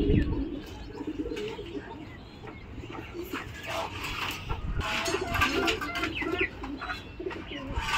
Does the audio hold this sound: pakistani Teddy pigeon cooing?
yes